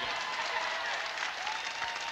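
Steady, dense applause from a crowd, continuous and fairly loud throughout.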